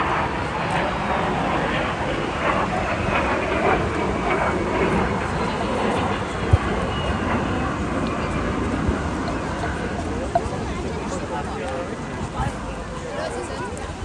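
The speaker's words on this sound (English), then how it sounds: "Beautifully effortless display here from this classic vintage jet fighter." A vintage de Havilland Vampire jet fighter roars steadily overhead at the Portrush air show with a broad, continuous engine rumble, while a voice talks over it.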